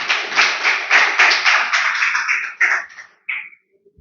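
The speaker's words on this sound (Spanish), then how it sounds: "Y dale ese fuerte aplauso si se lo quieres dar." A church congregation bursts into applause. Close, loud clapping runs for about three seconds, thins into a few scattered claps and then stops.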